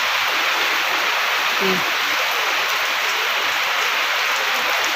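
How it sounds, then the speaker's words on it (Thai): Heavy rain pours down, a dense continuous hiss spread evenly throughout, with a brief faint knock partway through. "ก็คือตอนนี้ก็คือฝนตกนะคะ"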